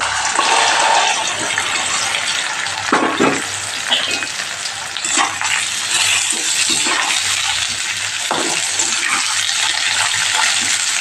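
Okra sizzles and crackles loudly in hot oil for a masala bhindi, a dense, steady frying hiss with occasional stirring clatters, close and continuous with no talking.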